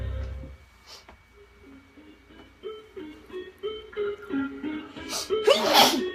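A single sharp human sneeze bursts out near the end, following a stretch of quiet melodic tones, close and loud.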